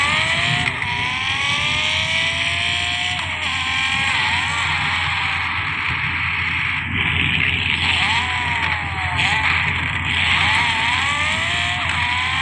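A modified Volkswagen Golf accelerates in a car video game, its engine droning loud and continuous with repeated rising revs through gear changes, no talking.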